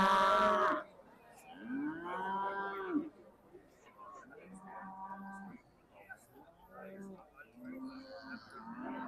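A Beef Shorthorn heifer at a show-ring judging event gives a loud moo at the start, followed by quieter lowing and a speaking voice in the background.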